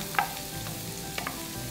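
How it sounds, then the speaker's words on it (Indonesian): Onions dropped into hot vegetable oil sizzle and fry steadily in a pan, a constant close hiss with a brief clink of a utensil and occasional stirring sounds, no voices. "pakai minyak sayur biasa juga boleh sahabatku kita masukkan bombaynya"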